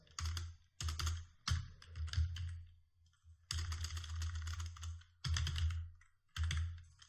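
Code being typed on a computer keyboard during ASP.NET programming work, heard as close, rapid clicking in several bursts separated by short pauses, with no talking.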